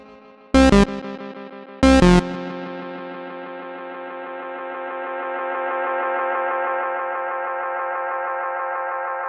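Boss Space Echo RE202 tape echo effect: two loud, sharp synth-like stabs, then a long, wavering tail of repeats that swells and slowly sustains with tape wow and flutter.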